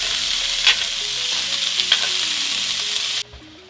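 Ground meat sizzles in a hot oiled pan for street tacos as it is broken apart, a dense steady frying hiss with a couple of sharp scraping stabs, cutting off abruptly near the end.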